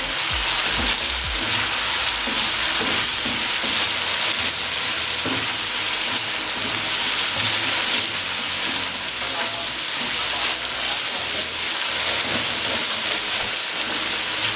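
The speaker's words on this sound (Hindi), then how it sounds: "अब इसको 1 से 2 मिनट के लिए फ्राई कर लेंगे।" Whole spices, including cinnamon, star anise, cumin seeds and black peppercorns, fry in hot oil in a pan, making a loud, continuous crackling sizzle with faint scattered stirring clinks and no talk.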